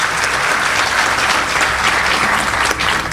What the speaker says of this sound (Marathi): व्हायोलिनसाठी एकदा जोरदार टाळ्या व्हायला पाहिजे